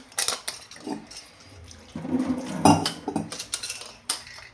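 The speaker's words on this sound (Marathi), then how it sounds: "आणि आता मी ह्याला घेते लगेच झाकण लावून" A metal lid is set onto a pressure cooker holding stuffed brinjal curry on a kitchen stove, giving a short run of close clattering knocks and scrapes with a louder clank near the middle.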